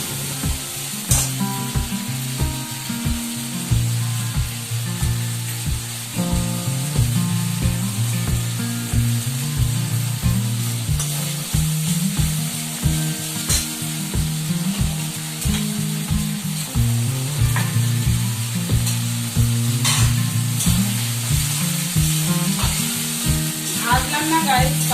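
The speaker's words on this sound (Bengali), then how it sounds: "মশলাটা আমি ভালো করে কষিয়ে নেব।" Ginger, cumin and tomato spice paste sizzles steadily in a pan, a loud continuous frying hiss with frequent scraping and stirring strokes throughout, no voices.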